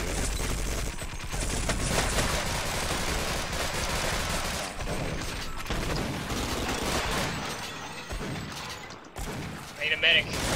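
Dense, continuous gunfire and explosions fill a Sven Co-op game session, with players talking excitedly over the barrage throughout.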